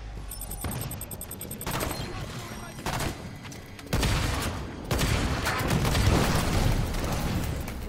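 Rocket launcher fire in the Halo 5 Warzone multiplayer shooter: heavy booming blasts and rolling gunfire bursts over a dense, busy battle din, steady and loud throughout.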